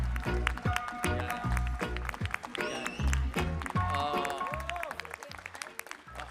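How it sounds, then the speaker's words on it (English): A summit audience at Expo City Dubai gives a big round of applause, a steady wash of clapping under loud rhythmic music with strong bass beats throughout. "A big round of applause for Dr."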